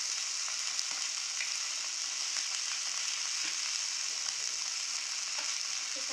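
Curry leaves frying in hot oil in a home kitchen, giving a continuous even sizzle with faint crackles and no loud spattering, steady from start to finish.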